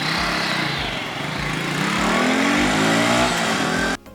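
A modified 61-year-old motorcycle's engine runs with a steady, loud mid-pitched drone and a regular pulsing beat for about four seconds, then cuts off abruptly near the end.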